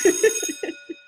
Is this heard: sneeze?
no